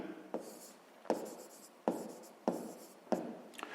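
A pen scratches across paper in short strokes, five distinct bursts each starting with a sharp tap, close and quiet during a sixth-grade maths exercise.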